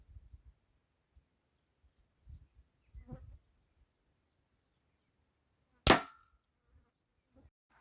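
A single sharp crack of an Artemis P15 airgun at about 35 foot-pounds, sending a pellet or slug into clay, rings out once, loud and close, amid faint low thumps and handling noise.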